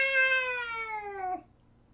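A cat cries out in pain from bushes, a single long, drawn-out meow that slowly falls in pitch before breaking off, close and clear.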